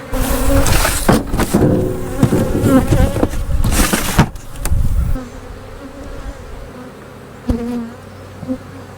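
Honey bees buzz loudly and continuously while honey frames are being harvested and the bees swept off into another box, the drone thick and close with sharper bursts and knocks in the first half, then settling to a steadier hum.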